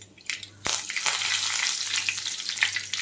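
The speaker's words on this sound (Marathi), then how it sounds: "त्यामध्ये तेल तापलेलं आहे। मी थोडीशी मोहरी, जिरे घातलेले आहे, कढीपत्ता घालते" Mustard seeds, cumin and curry leaves hitting hot oil in a kadhai for tempering, a sudden loud burst of sizzling and spluttering that stays hissy and crackling throughout.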